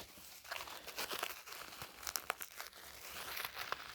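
Plastic yarn packaging crinkles and rustles in close, irregular bursts, with sharp crackles scattered throughout and no talking.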